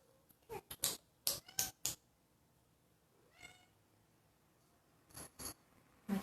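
A pet cat meows repeatedly indoors, close and fairly loud: a quick cluster of short meows, a softer call midway, then a few more near the end, separated by quiet gaps.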